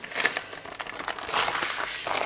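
A sheet of puff pastry being laid over seasoned meat filling gives off soft, dry crinkling and rustling, close and moderately quiet, in scattered bursts with a slightly denser crackle toward the end.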